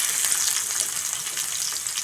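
Steady hot-oil sizzling with crackles and a faint watery hiss as chopped onion is added to fried cumin in a pan, continuous and close with no talking.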